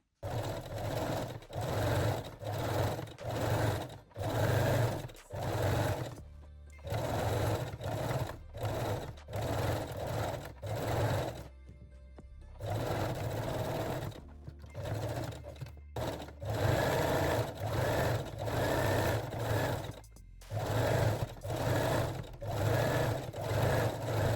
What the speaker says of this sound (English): Then fold your elastic and sew both leg openings again.